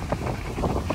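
Strong wind gusts roar and buffet the microphone outdoors near a fast-spreading wildfire, a brief, loud, rumbling rush.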